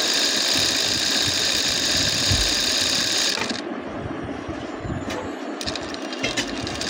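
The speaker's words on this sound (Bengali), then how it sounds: "হাইতেও আমরা ডাবল সেলাই দিয়ে নিব" A sewing machine runs a double stitch along the hem of a child's 32-inch salwar, sized for a 9-10 year old. A steady, loud, close whirring lasts about three and a half seconds, then stops, leaving quieter handling noise.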